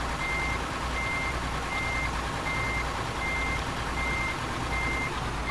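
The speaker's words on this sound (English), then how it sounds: "Let's try and reverse around that bit there." Reversing beeps sound from a truck backing up in Euro Truck Simulator 2, with a steady, evenly spaced series of loud electronic pulses over a constant engine drone.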